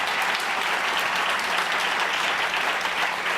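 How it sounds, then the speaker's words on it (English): A crowd claps and applauds steadily, a dense, even roar of hands that stays loud throughout. "Let's give them all a great big round of applause."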